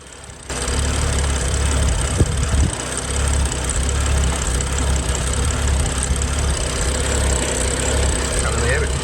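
BMW M135i with a rebuilt N55 engine and new turbo idling steadily after its first start following a refit, a continuous low rumble with no talk.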